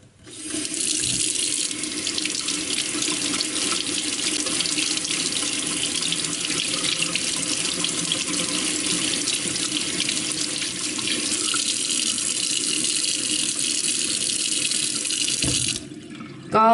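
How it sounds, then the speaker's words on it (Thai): Makeup brushes rinsed under a steadily running tap, a continuous loud splash of water that holds for about fifteen seconds before cutting off near the end. "แต่ว่าโชจะล้างน้ำสะอาดให้เยอะๆหน่อยอะคะ่ะ"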